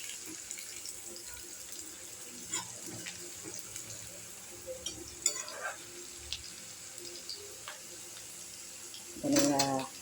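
Banana blossom chips frying in hot oil give a steady hissing, bubbling sizzle close by, with a few soft clatters and a louder burst near the end.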